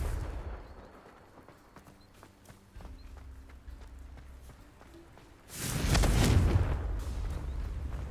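Confringo fire-blast spell in the video game Hogwarts Legacy, a sudden loud whooshing burst that swells and lingers after a stretch of quiet footsteps and rumbling ambience.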